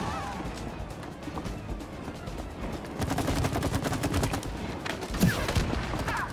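Gunshots in the co-op video game It Takes Two, a busy stream of rapid shots and crashes that gets denser partway through, with a sharp louder hit near the end.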